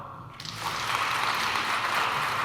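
A conference keynote audience breaks into clapping in answer to a show-of-hands poll, a dense wash of many hands starting after a brief pause and holding steady, fairly loud, with no talking.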